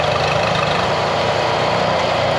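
A four-stroke outboard boat motor runs steadily at a low idle, producing a constant close rumble with no talking.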